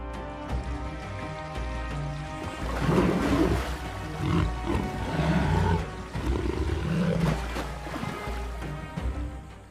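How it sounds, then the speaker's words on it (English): Roaring big predators clash beside rushing river water, deep rumbling roars swelling and fading over a constant wash of flowing water, heard at a distance. "Roars blend with the sound of rushing water rolling across the reserve like distant thunder."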